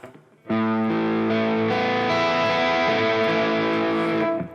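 A Harley Benton Fusion electric guitar on its neck pickup through heavy distortion, one loud sustained chord ringing out and held for about four seconds before cutting off.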